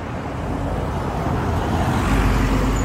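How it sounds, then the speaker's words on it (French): An old car drives past amid steady city traffic in Taipei, a broad continuous rumble that swells slightly toward the end, with no voices. "une vieille voiture"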